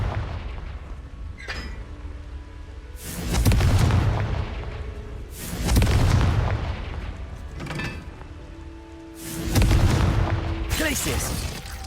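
Confringo blasting spells exploding in Hogwarts Legacy on PS4: four deep, booming blasts spaced a few seconds apart, each with a rumbling tail, over lighter game effects and a faint tone.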